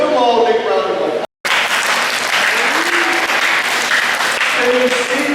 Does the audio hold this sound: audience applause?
yes